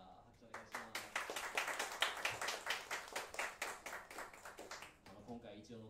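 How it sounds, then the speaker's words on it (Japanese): At a small live band show, the audience claps in distinct, fairly quick strokes that build after a few early claps and stay steady, then thin out as a voice begins talking at the very end. "拍手お願いします。"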